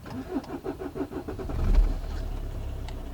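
Opel Meriva 1.3 CDTI diesel engine, 2006 model, being switched off and started again, a close mid-pitched engine rumble with a rhythmic chug that swells into a brief rev before settling into a steady idle.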